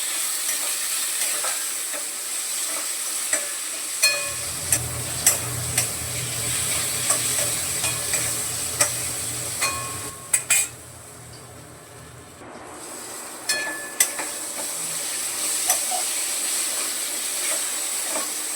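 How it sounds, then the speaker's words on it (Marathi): Cut potatoes with salt cook in a pan over a steady sizzle and hiss, with scattered clinks and scrapes of stirring. "कापून ठेवलेला बटाटा पहिला थोडासा शिजून घेणार आहे"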